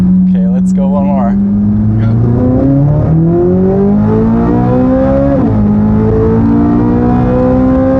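A matte black Chevrolet Corvette Z06 with the Z07 package roars loudly up through the revs, its pitch climbing steadily before a quick dip as it shifts and pulls again, close and dominant with a brief voice near the start.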